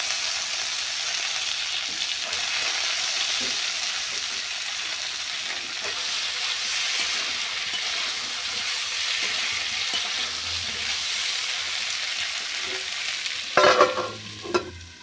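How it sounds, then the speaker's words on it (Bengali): Mixed vegetables fry in a wok, a steady close sizzle and hiss running throughout with soft stirring scrapes, ending with a few louder clatters of the pan. "সবজিটা কত সুন্দর আমার ভাজা হয়ে আসছে"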